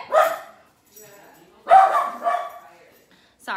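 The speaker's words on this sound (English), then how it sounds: "my dog is perturbed by Tiffany" A house dog barks at a visitor at the door in a couple of loud, close, separate bursts, with yappy whining between them. A short gap of quiet separates the barks.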